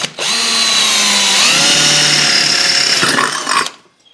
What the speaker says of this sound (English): I was just making a hole so that my drill bit will sit in it for cutting.